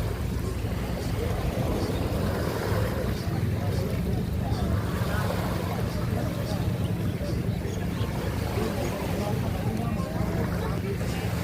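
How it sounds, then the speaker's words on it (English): Waves roll and crash onto a beach lined with boats, a continuous, full wash of surf mixed with wind buffeting the microphone, while people talk faintly in the background. "Just listen to the sound of the waves crashing as well"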